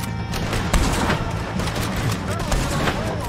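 Gunfire rings out in the Red Dead Redemption 2 video game, several close, loud shots cracking at irregular intervals over steady background din, with voices talking underneath.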